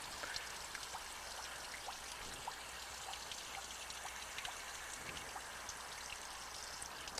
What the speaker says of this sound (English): You want to wait till you have nothing but clean water coming out of it.